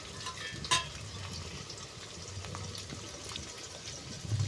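Fish coated with turmeric and salt goes into hot oil in a pan, giving a faint, steady sizzle close by with a brief louder splash near the start and no speech.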